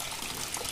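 Water gushes through the radiator of a Cagiva Agrale 200 two-stroke motorcycle during a rinse, a brief, steady, close splashing flow.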